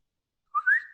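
A short rising whistle from one person, close and clear, about half a second long, starting after a moment of silence and sliding upward in pitch before trailing off.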